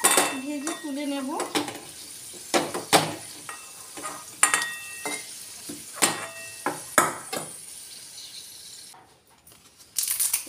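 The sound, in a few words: potatoes frying in oil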